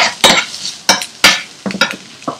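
Turmeric, red pepper and red chili powder being stirred into beans in a pot: a few loud scraping strokes of a spoon against the pan, each a short burst, spaced irregularly with no voice over them.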